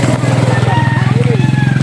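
Motorcycle engine idling or running nearby, a steady low pulsing putter heard under loud talk.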